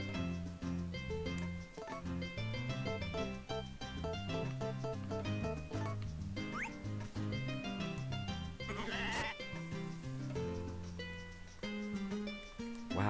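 Sheep bleating in the farming video game Harvest Moon: A Wonderful Life, a short animal call over continuous, busy in-game background music.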